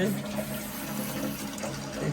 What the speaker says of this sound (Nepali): हाम्रो अनिसाले चाहिँ जहिले बेलुका बेलुका भाँडा माझ्छ